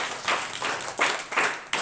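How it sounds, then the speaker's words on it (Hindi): Students clap in bursts at a school prize distribution in Jharkhand, with rhythmic applause rising and falling over a couple of seconds at moderate loudness. "ताली मार दीजिए"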